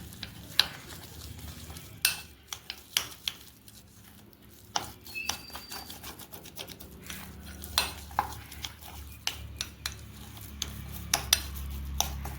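Ground spice paste is stirred with water as it is added a little at a time, making repeated light clinks and taps of a spoon against a bowl over a low, quiet background.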